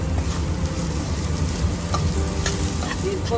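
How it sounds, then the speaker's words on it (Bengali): Crushed chilli tipped into vegetables and fish frying in a pan, a dense steady sizzle with stirring scrapes, close and continuous with no talking. "সব সবজিগুলো ভাজা হয়ে গেছে এবার আমি একটু লঙ্কা ভাঙা ভাঙা করে গুঁড়ো করে রেখেছি সেটা দিয়ে দিলাম"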